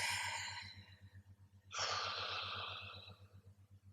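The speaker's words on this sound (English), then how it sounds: "Grab your wrist, breathe in, blow out." A person draws a deep breath in and then blows it out in a long, audible exhale, alone and fairly close over a low steady hum.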